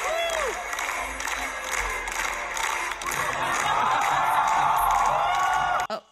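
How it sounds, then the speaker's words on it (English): A crowd claps and cheers at an event, a dense, loud wash of applause with whoops and shouts that builds steadily before cutting off abruptly near the end. "Their clapping is off."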